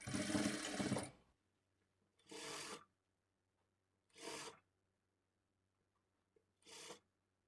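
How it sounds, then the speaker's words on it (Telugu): A sewing machine stitches the folded edge of a blouse in four short separate bursts, the first longest, with near silence between them and no talk. "ఈ చివరన ఒక స్టిచ్ వేసుకోవాలి"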